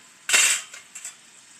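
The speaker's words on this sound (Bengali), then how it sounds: "আবার আমি ঢাকনাটা খুলে নিচ্ছি" A pot lid is lifted and set back on a pan of simmering chhechra, a Bengali wedding-style greens and vegetable dish. One sharp metallic clank is followed by two lighter clinks, close and without talk.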